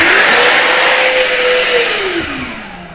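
A hand dryer in a public toilet blows with a loud, steady close-up roar and a rising, wavering whine, then trails off slightly toward the end, with no voices.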